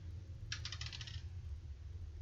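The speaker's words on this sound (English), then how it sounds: "let's do the dice rolls" Dice clatter briefly across a hard surface, a quick run of bright rattling clicks that fades within about a second over a low steady background hum.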